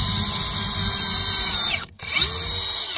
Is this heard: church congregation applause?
no